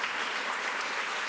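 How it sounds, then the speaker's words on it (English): Audience applause at an ESPON seminar after a panel closes, a short burst of dense, steady clapping from a hall crowd. "give them all a warm round of applause"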